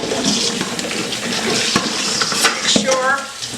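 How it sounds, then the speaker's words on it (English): Running tap water splashing over apples in a kitchen sink, a steady close gush with wet knocks and rubbing as the fruit is rinsed, a voice talking faintly over it. "I'm going to put these now under the pipe, rinse them off and wash them off really good"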